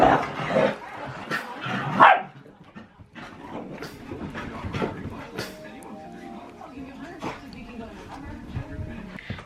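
A small dog yaps in short, sharp barks close by, loudest early on, then quieter, with someone talking over it.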